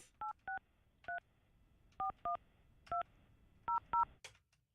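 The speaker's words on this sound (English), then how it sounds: "All right, calling Sheriff Judd" Telephone keypad dialing on a live morning radio show: eight short touch-tone beeps in uneven pairs and singles, crisp and close over a faint background hiss.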